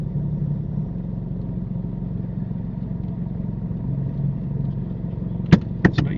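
Learner driver's car moving off smoothly from traffic lights, a steady low engine rumble and road noise heard from inside the cabin, with a few sharp clicks near the end.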